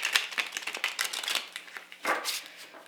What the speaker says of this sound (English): I'm going to do a couple shuffles here